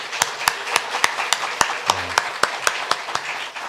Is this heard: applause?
yes